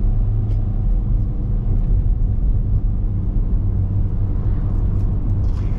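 A 2023 Kia Rio S sedan pulls away from a stop with a low, steady engine rumble and road drone heard from inside the cabin, rising little in a sluggish, even hum.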